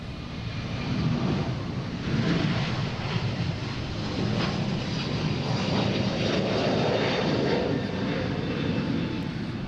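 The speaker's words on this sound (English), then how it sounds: "JetBlue coming in from London Heathrow." A JetBlue Airbus A321neo arriving at Boston Logan International Airport, a steady, loud jet engine roar that holds broadly throughout with no talk over it.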